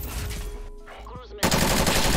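Gunfire in Call of Duty, a loud burst of rapid automatic shots cutting in abruptly after a quieter stretch of muffled game sounds.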